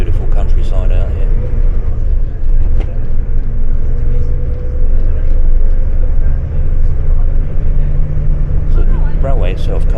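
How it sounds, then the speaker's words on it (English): Steady, loud low engine rumble and road drone inside a moving vintage double-decker bus travelling through countryside, continuous throughout, with voices faintly under it. "Double-decker bus that we're on."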